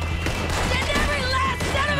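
Revolver shots ring out in Red Dead Redemption 2, a couple of sharp cracks within busy game noise and lingering echoes, with someone talking over them.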